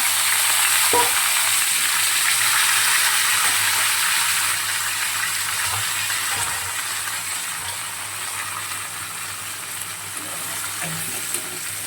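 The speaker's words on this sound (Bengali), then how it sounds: "একটু সবজিগুলো লাল লাল করে ভাজবো।" Vegetables fry in a pan for a vegetable dal, giving a steady, dense sizzle that holds close and loud throughout, with faint stirring scrapes underneath.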